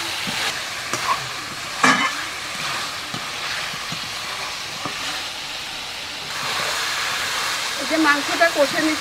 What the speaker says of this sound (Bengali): মাংসটা কষে নিচ্ছি